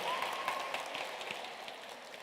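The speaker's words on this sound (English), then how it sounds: "Can we give another round of applause to our wonderful first panel for today?" Steady applause from an audience at a tech summit, a dense wash of clapping that holds at an even level throughout without voices on top.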